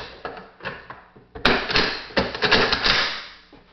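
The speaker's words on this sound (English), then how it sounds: "we're going to put the carrier into these two slots in the back" An AK-47 bolt carrier is seated into the two rear slots of the receiver, giving a series of close metallic clicks and scrapes capped by one sharp clack as the steel parts slide together.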